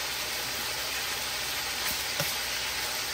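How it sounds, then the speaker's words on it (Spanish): Three pounds of meat fry in a pan with a steady, even sizzle that holds at a constant level throughout, and no one speaks. "Vamos a estar friendo así las 3 libritas de carne."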